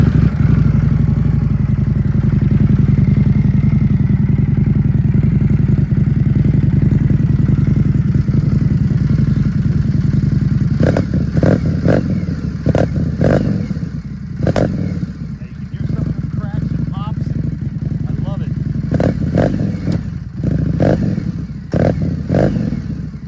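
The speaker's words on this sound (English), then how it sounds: "that's the actual 2025 Vance and Hines slip-on. So let's sit on the bike and let's take a look and a hear and a listen." A 2025 Indian Scout motorcycle fitted with a Vance & Hines slip-on exhaust idles with a deep, steady rumble at close range. Later, clattery thumps and knocks break in over the running engine.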